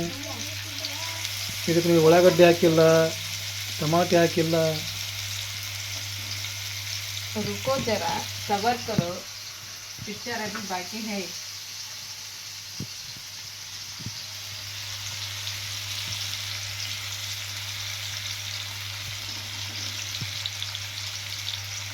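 Country chicken fries in hot ghee with a steady, soft sizzle that runs the whole way through, while voices talk over it in the first half before the frying carries on alone.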